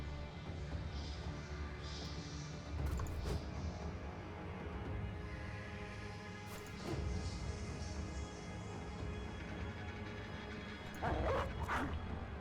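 War dog from the video game Battle Brothers barking in a few short, loud bursts over a steady, dense game soundtrack and ambience, with no talking.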